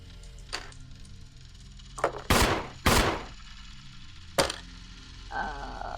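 Handgun shots ring out during a Resident Evil board game session: a few sharp, loud reports with short gaps between them, the two strongest close together, over a quiet background.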